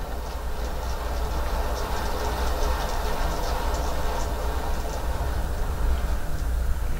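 Rapido J70 model locomotive fitted with a DCC decoder, running in reverse: a steady, moderately loud mechanical whir and rattle of a small motor and gears, continuous throughout with no pauses or speech.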